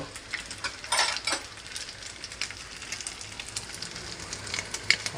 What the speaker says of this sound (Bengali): জাল বাড়িয়ে দিয়ে ভেজে নিই শুটকি প্রায় ভাজা ভাজা হয়ে এসেছে